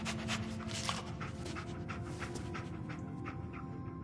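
Dogmeat, the dog companion in Fallout 4, panting steadily in quick rhythmic breaths, close and fairly quiet over a low ambient game hum.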